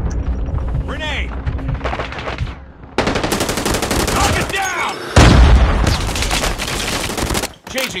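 Grenade blast and rapid gunfire in the mobile shooter Call of Duty Mobile, Kill Confirmed mode: loud bursts of automatic fire with a heavy boom midway, game voice callouts breaking in between.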